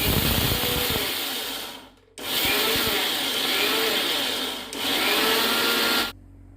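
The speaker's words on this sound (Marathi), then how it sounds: "पल्स मोडवर हे तांदूळ बारीक करून घेऊयात" Dried rice ground in a mixer grinder on pulse mode: three loud whirring bursts of motor and rattling grains, each running about two seconds, with short silent breaks between pulses.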